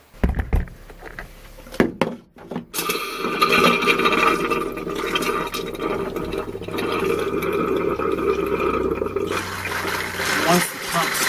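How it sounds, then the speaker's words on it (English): A truck camper's water pump, in an Arctic Fox being dewinterized, draws water instead of air, producing a steady churning hum with liquid sloshing after a few sharp knocks at the start; it runs on loud and close. "Once the pump starts to suck water, the pump makes a very distinctly different sound compared to when it's just sucking air."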